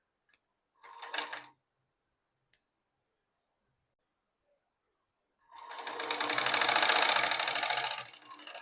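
Sewing machine stitches fabric strips for a baby elastic frock: a short whirring burst, a long pause, then a longer steady rapid run of stitching, fairly close and clear.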